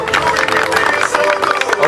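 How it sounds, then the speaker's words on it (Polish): An audience at a jumpstyle event in a cultural centre in Pabianice applauds, with a brief, loud, dense burst of clapping and crowd noise filling the whole moment. "wielkie brawa"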